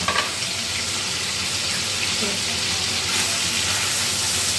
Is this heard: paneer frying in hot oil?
yes